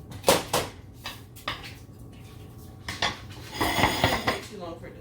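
A spoon scrapes and clinks against a metal pot while soup is stirred, in several irregular bursts of clatter close by, with a quiet kitchen background between them.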